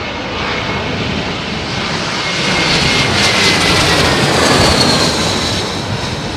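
An airliner arriving at Heathrow Airport in windy weather, its engines giving a loud, steady roar that swells toward the middle and holds, broadband and continuous with no voices.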